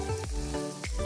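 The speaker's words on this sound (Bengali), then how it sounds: "বিনস আর গাজরটাকে একসঙ্গেই ভেজে নেব।" Beans and carrots fry together in hot oil with a steady close sizzle, crossed by a few quick stirring scrapes over a brief moment.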